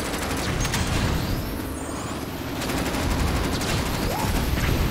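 Weapons fire during combat racing in Jak X: Combat Racing, a dense rapid volley of shots and bursts over roaring engine noise, loud and continuous for the whole stretch without talk.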